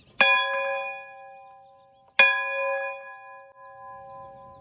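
A camp bell rings twice about two seconds apart. Each bright metallic strike lingers and fades, heard alone in a quiet outdoor setting.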